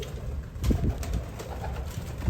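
Low, soft cooing of breeding pigeons in a coop close by, steady and muffled, with slight rustling and no talking.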